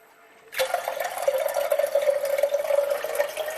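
Water pours steadily into a kettle after a brief quiet start, a continuous close splashing stream that slowly rises in pitch as it fills.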